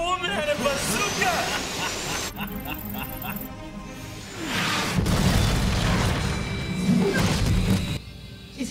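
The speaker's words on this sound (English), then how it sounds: "You shot an RPG." An RPG rocket explosion from a TV action scene, heard as heavy booms and crashing blasts mixed with dramatic music while people talk over the scene.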